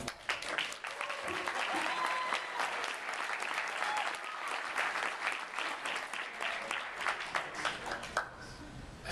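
Applause from the crowd at an Image Comics anniversary panel, a sustained, even wash of many hands clapping that carries on for several seconds before easing near the end.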